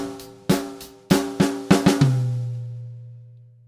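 Drum kit playing a short Motown-style break from snare down to high tom: a handful of sharp close hits in quick succession ending on a ringing tom that sustains and fades.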